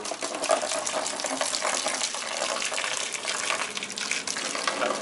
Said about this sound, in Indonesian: Buka air first dulu.